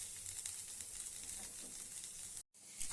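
Toor dal roasting in a pan makes a soft, even sizzling hiss, close and quiet, cut by a brief silent gap before resuming.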